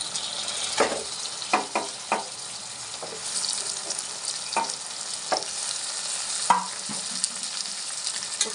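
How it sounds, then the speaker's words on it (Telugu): Washed mutton frying in a pan for a tamarind-leaf curry gives a continuous close sizzle, broken by a series of sharp clattering knocks and stirring scrapes, with no speech. "మటన్ వేసుకుందామండి, కడిగి పెట్టుకున్న మటను."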